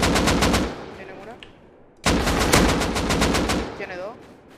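Rapid bursts of automatic gunfire from a submachine gun in the video game Rust, two long volleys separated by a short pause, loud and close.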